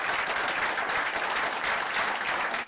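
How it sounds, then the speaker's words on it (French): An audience applauds loudly and continuously, dense clapping holding steady before cutting off at the end. "on peut applaudir cette initiative qui est la sienne"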